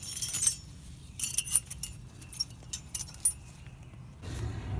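Small metal brake pad hardware clips on a 2006 Toyota Prius are handled, giving light clinks and jangling taps over a low background rumble, in irregular bursts at close range.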